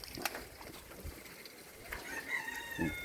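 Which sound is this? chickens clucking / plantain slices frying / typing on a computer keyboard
chickens clucking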